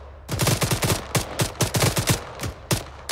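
A PKM machine gun fires in Arma 3, loud, close bursts of sharp rapid shots in uneven groups of two to five rounds with brief gaps between them, and no talking.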